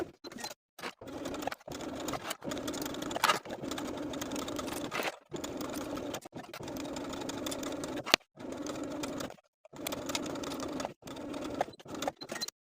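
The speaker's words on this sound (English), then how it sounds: "Now we're going to baste around that center section, around the armhole, and across this lower section. Use the longest stitch on your machine" A sewing machine runs long basting stitches around the armhole and across a lower section of a swimsuit piece, a steady mechanical whir in repeated bursts separated by short pauses.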